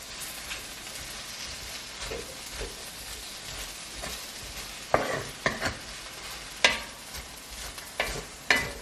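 Vegetables for black pepper steak sizzle and fry in a pan, a constant hiss with scraping stirs and sharp clinks of a utensil against the pan, close and without talk.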